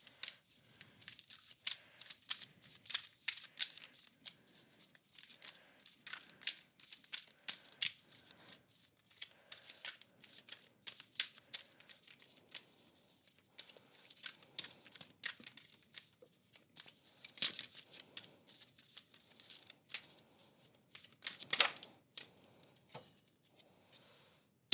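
Tarot cards shuffled by hand up close, a steady run of soft riffling and rustling bursts with brief pauses, fairly quiet and with no talking.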